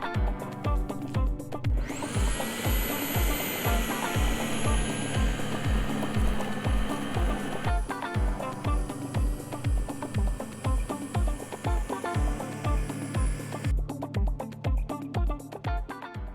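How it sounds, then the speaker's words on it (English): A Sunjoe electric dethatcher with a scarifier head, set at its lowest setting, whirs loudly across a front lawn, its motor drone overlaid by a rapid, regular rhythmic thumping as the tines strike the turf, starting up and winding down near the end. "Now I'm going to use my Sunjoe dethatcher with the Scarfire head attached and set on its lowest setting"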